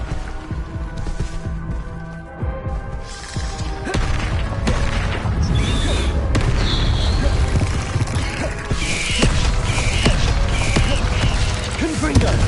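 Bombarda blasting spell cast in Hogwarts Legacy, bursting with loud booms, crashes and creaking debris amid a dense, busy game soundscape, with faint talk mixed in.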